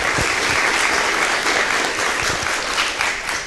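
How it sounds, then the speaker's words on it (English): Dense, sustained audience applause fills a mayoral debate hall, steady and fairly loud throughout with no gaps, a crowd clapping in unison-like wash for a city council member running for mayor. "please give Julie a round of applause as well"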